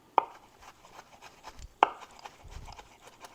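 Knife mincing garlic on a cutting board, two sharp chops about 1.6 seconds apart with quieter scraping and rocking between them, close and moderately loud.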